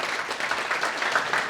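Audience applause at a bikers' meetup held at the Park Iris Hotel in Vijayawada, a steady, dense clapping from a crowd that continues throughout without pause.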